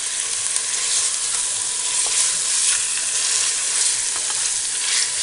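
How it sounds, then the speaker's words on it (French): Sausage meat frying with onions in a pan gives a steady, close, unbroken sizzle with faint stirring scrapes and no voices. "on fait revenir les oignons et on ajoute ensuite la chair à saucisse"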